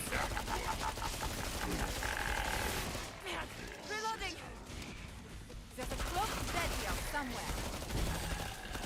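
Rapid, loud gunfire from guns in the zombie shooter Killing Floor 2, clattering bursts running almost nonstop under a person talking, with a short quieter stretch midway.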